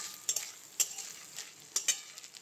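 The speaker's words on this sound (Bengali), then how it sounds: "এবারও খুব ভালো করে নেড়ে নেব।" Grated coconut frying in a pan for semolina gujiya filling while being stirred, with quiet scraping strokes at irregular intervals over a soft, steady sizzle, close and alone without talk.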